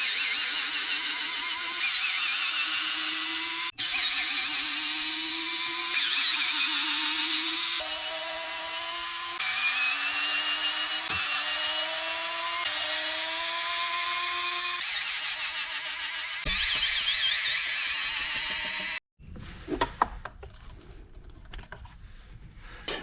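Cordless power driver backing screws out of a Redcat Machete RC car chassis, a steady rising-and-falling whine repeated in several short bursts close up, followed by a few seconds of clicks and handling of parts.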